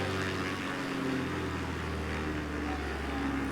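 A propeller plane engine in Microsoft Flight Simulator drones as a steady, loud, continuous hum with a deep tonal buzz, unchanging from start to end, and no talk over it.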